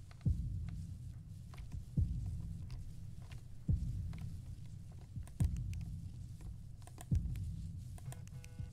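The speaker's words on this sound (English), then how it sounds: "my heartbeat is getting super intense, and I don't like that" A heavy, thudding heartbeat pulses roughly every one and a half to two seconds in the horror game Slender: New Hope, each beat a deep throb over a low ambient hum, with faint clicks between.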